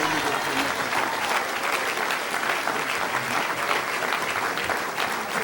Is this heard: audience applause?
yes